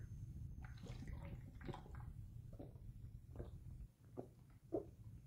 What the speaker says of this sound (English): Just drinking water if I can get the water bottle open